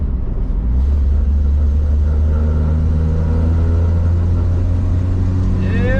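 A 1958 Rambler Cross Country Wagon cruises on the road with a loud, steady low engine drone and rumble, joined by a rising tone near the end as it picks up speed.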